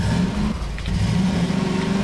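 A vehicle's engine in Half-Life 2 revs as it drives up a mountain, a steady mid-pitched drone with a brief dip partway through, then rising again, loud and close.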